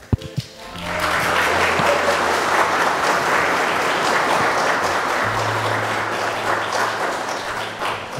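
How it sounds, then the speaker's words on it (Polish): Wedding guests at a church ceremony break into a loud, sustained wave of applause for the newly married couple after their vows. The clapping stays even for several seconds, and a low steady tone hums beneath it near the end. "Wielkie brawa dla nich."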